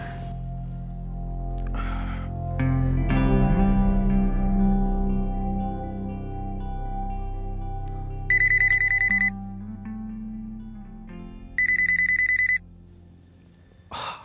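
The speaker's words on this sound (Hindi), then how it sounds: "मैं फिरोजा को फोन करता हूं।" A low humming drone with a rising whoosh, then two bursts of an electronic phone ringtone trilling, separated by a few seconds of quieter tones.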